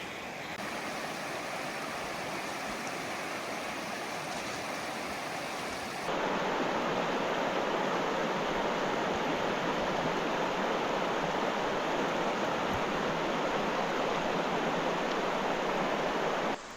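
The Brazo River in the Canadian Rockies rushes past as a steady broadband roar of flowing water, which grows louder and fuller partway through and continues unbroken with no voices.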